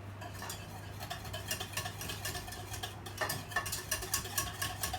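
Soft, steady crackling of food frying in a pan, with scattered pops and clinks over a low background hum.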